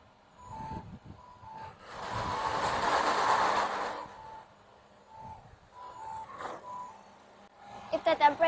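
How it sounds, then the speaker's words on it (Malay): A car's child-alert buzzer sounds repeated short beeping pulses, mixed with a louder broadband rushing noise in the middle and people talking over it. "the buzzer will sound an alarm to attract attention"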